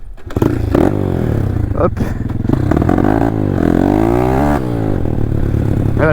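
A motorcycle engine being started and revved, running loud and steady throughout with rising and falling pitch sweeps, a few clattering knocks near the start, and a voice speaking briefly over it.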